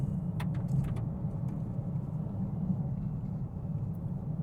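A Vauxhall Mokka GSE rolling over loose gravel, a steady low road rumble and engine hum with scattered crunchy ticks of stones from the tyres, moderate in level and continuous throughout.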